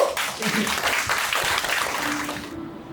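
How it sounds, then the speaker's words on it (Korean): Audience applause at a poetry reading, a dense round of clapping from a small crowd that carries on for a couple of seconds and then cuts off abruptly. "큰 박수로."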